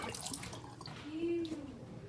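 Hot water is poured from a pitcher over corn for soup, a soft steady trickle and splash with faint ambient noise and a brief tonal ring partway through.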